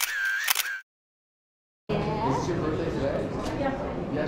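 A single camera shutter click while a selfie is taken at LA Comic Con 2022, with crowd chatter before it, a short silence after, then a steady busy hum of talking voices.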